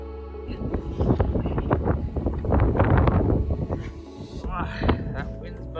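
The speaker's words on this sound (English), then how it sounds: "Here comes the wind again." Wind gusts across an exposed hillside in the Lake District during heavy rain, roaring and buffeting the microphone in a broad rushing swell that eases toward the end.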